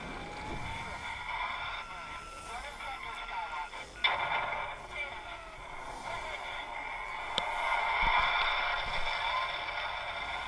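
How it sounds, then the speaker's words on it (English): Radio static in the video game Destiny, a steady hissing crackle of white noise with tonal bands and occasional sharp clicks, moderately loud and continuous. "Hell, some white noise."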